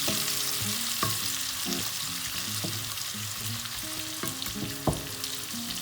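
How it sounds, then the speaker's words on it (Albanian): Fried zucchini slices with garlic are stirred in hot oil in a pan, with a steady sizzle broken by several sharp clinks and scrapes of the utensil. "I përzim të gjitha bashkë në mënyrë që hudra të futet në çdo kungull"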